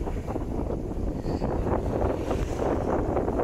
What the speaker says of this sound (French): On a un vent de travers, on avance à 5 nœuds.